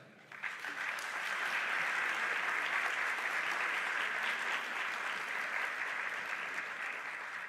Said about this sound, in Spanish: Para todos ellos les pedimos un fuerte aplauso.